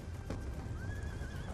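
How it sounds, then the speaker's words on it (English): A horse neighs in a Wii U game, a single whinny rising and wavering over a steady low rumble, with faint hoof clip-clop beneath, close and moderately loud. "I'll call that horse the brown horse, Buttercup, and you Vanilla."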